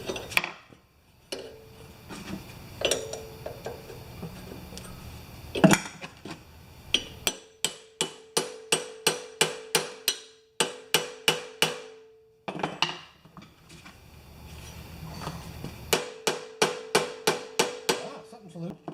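Hammer blows on a blunt chisel while extracting the motor from an MTD lawn tractor, a steady series of sharp metallic ringing strikes in quick bursts, loud and close, with short pauses between runs.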